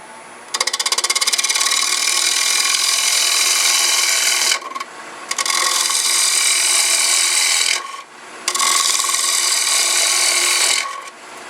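An Ellsworth bowl gouge makes hollowing cuts into a double wood block spinning on a lathe: three long, loud, close rasping passes, each a few seconds, separated by brief pauses.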